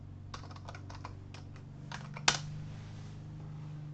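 Router password typed on a computer keyboard: a quick run of light key clicks in uneven bursts, then a sharper single keystroke, close and quiet over a low steady hum.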